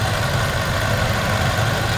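A 2020 Toyota Innova 2.8 engine idles with a steady, dense mechanical drone and a fault noise, close and loud with constant low rumble and vibration throughout.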